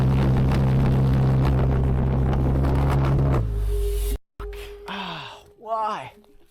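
A homemade jet engine roars loud and steady for a few seconds before cutting off abruptly, followed by voices and brief shuffling sounds.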